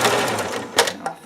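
A sewing machine stitches a pocket onto a skirt in one steady close run that lasts the whole moment, with a couple of brief clicks near the end and no voices.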